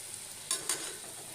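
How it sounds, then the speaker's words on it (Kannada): Kadubu dumplings deep frying in hot oil give a faint, steady sizzle, broken by two short bursts of louder crackling as the pieces are moved, with no talking. "ನೋಡಿ ಈ ಥರ ಜಲ್ದಿ ಫ್ರೈ ಆಗ್ತದೆ"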